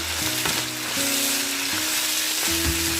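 Food is stir-fried in a hot pan, a loud continuous sizzle with bursts of scraping and tossing, close up, with faint steady tones running in the background.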